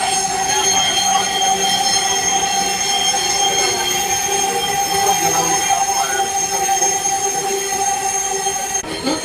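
A Dhaka metro rail train runs between stations, with a steady loud rumble and tonal whine of wheels and motors throughout, plus a faint squeal and a slight change near the end.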